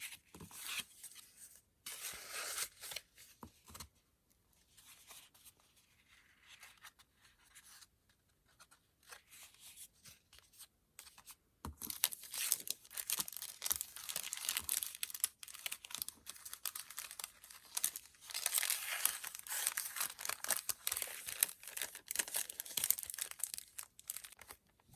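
Paper cards being folded and handled at a table, faint crinkling and rustling at first, then denser close scraping and creasing sounds without talk.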